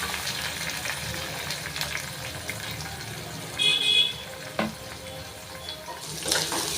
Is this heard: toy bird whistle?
no